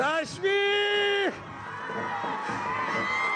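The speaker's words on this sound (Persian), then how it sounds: "تشویق." A studio audience at a TV neighborhood competition show cheers. A loud, drawn-out shout leads into a sustained wash of crowd cheering and clapping.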